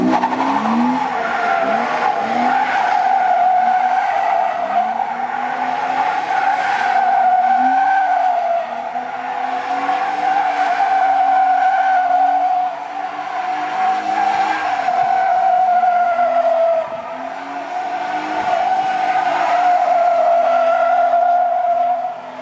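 Lexus SC300 and BMW E36 doing donuts, tires skidding and squealing in a long continuous wail that wavers in pitch as the cars circle, with engine revs underneath, loud and close throughout.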